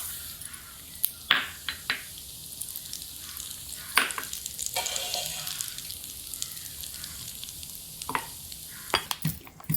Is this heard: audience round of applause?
no